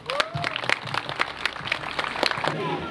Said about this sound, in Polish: Wielkie brawa dla Ojca.